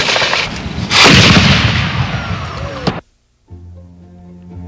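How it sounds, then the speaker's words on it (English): A colonial muzzle-loading musket fires one loud, booming shot that rolls into a long fading rumble. The sound then cuts to silence, and soft music follows. "A ramrod used then to seat powder, bullet, paper wad with one motion. The gun brought up and cocked,"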